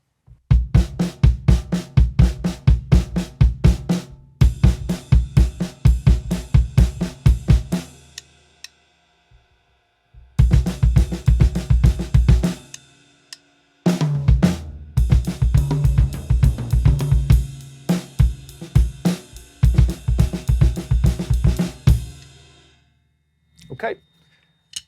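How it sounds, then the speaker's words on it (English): A full drum kit plays a polyrhythm, snare and bass drum combined with an added bass drum grouping of three, in loud dense bursts with two short pauses, ending in a few sparse hits. "polyrhythmical, snare and bass combined."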